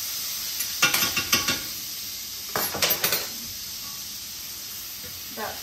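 Minced garlic sizzling in an iron skillet, a soft constant hiss of frying broken by bursts of scraping and clinking as a utensil stirs against the pan.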